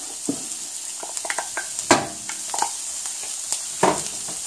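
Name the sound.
parsley and garlic sizzling in paella pan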